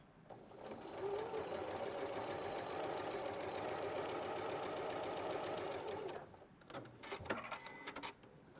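A sewing machine stitching a quilt runs steadily at close range for about five seconds with a fast even whir, then stops, followed by a few light clicks and handling noises.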